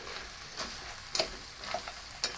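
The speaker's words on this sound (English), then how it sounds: "Just gonna stir it around, get it mixed in with the rest, so evenly" Penne pasta is stirred into hot hamburger soup in a pot, a soft simmering hiss broken by scattered clinks and scrapes from the spoon, close and quiet with no talking.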